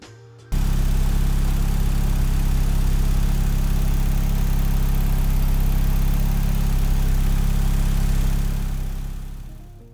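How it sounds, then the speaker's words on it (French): A turbocharged car engine running E85 fuel idles steadily on a dynamometer while warming up, a loud, continuous low rumble that starts abruptly and holds unchanged before fading slightly at the end. "Je vais faire chauffer le moteur, je vais lui faire au moins un cycle."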